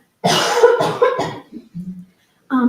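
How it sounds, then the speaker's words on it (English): Several harsh coughs come in a quick cluster, loud and close, followed after a short pause by a brief vocal sound. "I'm gonna cough, excuse me."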